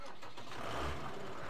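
A tractor engine in the video game Farming Simulator 15 gives a low, steady rumbling drone that swells slightly midway through this short moment.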